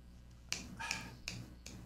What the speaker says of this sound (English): You snap your fingers when you're trying to remember something